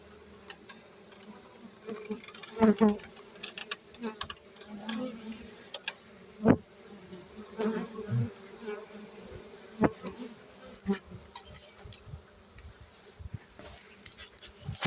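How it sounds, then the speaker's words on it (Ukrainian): Honeybees buzz around a crowded beehive fitted with a pollen trap, a close, wavering drone with individual bees passing near and swelling louder at times, with no speech. "Біля мене зараз тільки бджоли тут крутиться"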